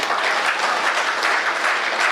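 An audience at a Hindi poetry recital breaks into loud, dense applause, a continuous wash of clapping filling the whole moment.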